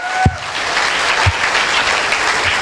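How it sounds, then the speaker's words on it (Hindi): An audience at an AWPL speech event claps loudly and steadily, a dense continuous applause with a few sharper single claps standing out. "जोरदार ताली होनी चाहिए।"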